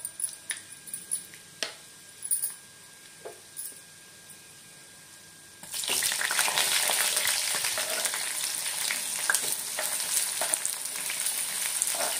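Chana dal and urad dal crackle and sizzle in hot oil with mustard seeds, a loud continuous fry starting partway through after a few quiet taps and clicks, with no talking.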